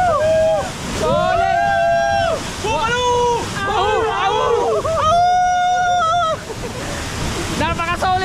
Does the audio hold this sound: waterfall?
yes